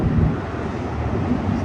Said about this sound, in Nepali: खोलाको किनारमा मजाले हावा लागिरहेछ